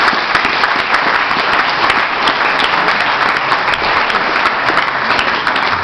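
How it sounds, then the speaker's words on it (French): Loud, dense applause from an audience at a Rotary club collar handover ceremony, continuous and even for the whole stretch, close and full. "je vous demande aussi de les applaudir"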